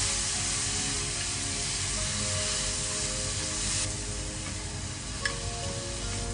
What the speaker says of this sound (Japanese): そしたらこれをちゃちゃっと炒め合わせて